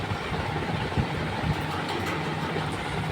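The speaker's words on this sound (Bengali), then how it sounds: "তো এদিকে দেখো ট্রেনে উঠে পড়েছি।" Steady, loud rumble of a moving passenger train heard from inside the carriage, a continuous roar with faint rhythmic knocks throughout and no talking.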